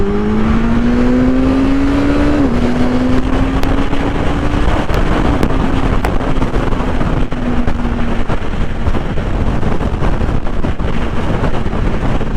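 Motorcycle riding in fourth gear at about 75 miles an hour, a steady engine drone that steps in pitch once, then holds under loud, continuous wind buffeting on the microphone; no talking.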